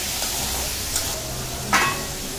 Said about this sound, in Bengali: আমি চিংড়িগুলো ভেজে তুলে দেবো